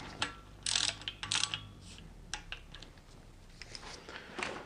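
Ratcheting clicks from a socket wrench come in short bursts while bolts are tightened on a BMW E46 M54 engine during reassembly, close and fairly quiet with pauses between strokes.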